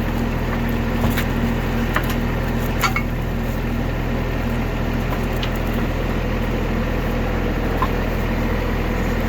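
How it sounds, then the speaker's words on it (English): A New Holland Boomer TC25D compact tractor engine is held a little above idle, giving a steady, continuous mechanical drone with faint occasional clicks and taps. "I'll give him a little more throttle here."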